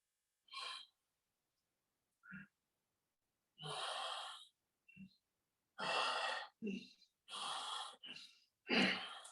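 Deep pranayama breathing during a chair yoga session for elderly people: a series of long, audible inhales and exhales and sharp breaths, close and fairly faint, separated by quiet pauses.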